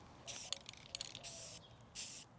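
Spray paint misted onto a garden trellis outdoors: faint, short hissing bursts, three or four separate pulls of the nozzle with small clicks and quiet gaps between them.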